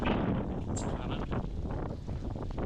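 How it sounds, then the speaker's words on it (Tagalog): Strong wind roars and buffets the microphone continuously during a bike ride in Tarlac, a dense rumbling rush with no pauses. "Ang lakas ng hangin"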